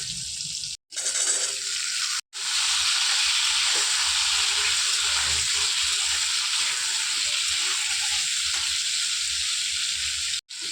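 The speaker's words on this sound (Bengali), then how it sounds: "এখানে আলু আর পটলটা আমি ভালো করে ভেজে নিচ্ছি।" Potato and pointed gourd pieces fry in oil in a pan, giving a loud, close, continuous hiss and sizzle with a few short breaks.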